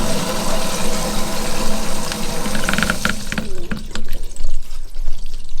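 Water rushes into a whole-house filter housing as its valve opens, a loud, close, steady hiss and gush of filling liquid that eases and changes tone partway through.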